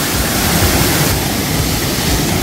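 Okyang waterfall in Sangju, water plunging between huge rocks, heard as a loud, steady, close roar of rushing water with no voices.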